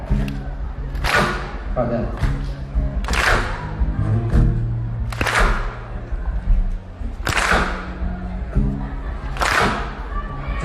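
A concert crowd claps in unison along to a song in Bournemouth, sharp regular claps under a singer's voice.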